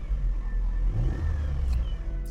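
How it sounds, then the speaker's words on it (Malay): A Mercedes-Benz C-Class W204 with a CGI turbocharged engine runs close by, its deep, steady rumble rising in a rev with a thin turbo whine above it. "Jadi itulah dia bunyi enjin CGI turbocharge."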